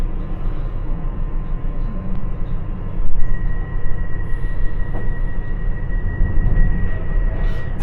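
A westbound London Underground Piccadilly Line train at night near Southgate, heard from the rear, with a continuous low rumble of wheels and motors and a sustained tonal whine partway through.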